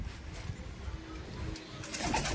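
Andhra pigeons, a fancy breed kept for tournament flying, coo softly in a loft at close range, with a low repeated murmur and no talk over it.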